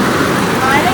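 Heavy rain driven by strong wind on a hilltop at Ponmudi, a dense steady wash of noise across the whole clip, close and loud with no breaks.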